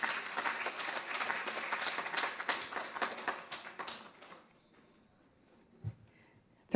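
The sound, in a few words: audience applause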